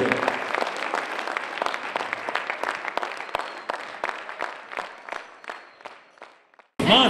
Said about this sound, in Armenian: Ծափահարություններով ճանապարհ ենք ունենում Հարվանա